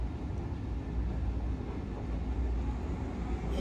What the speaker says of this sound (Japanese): 列車はね発車いたしました。